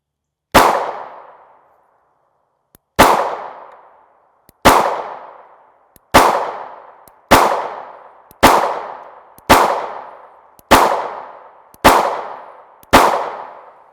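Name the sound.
Springfield Hellcat pistol firing 9x19mm 124gr FMJ ammunition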